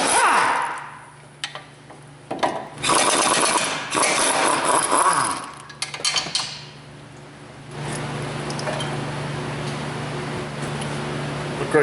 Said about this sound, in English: Grab an 18mm, remove your brake caliper bracket bolts.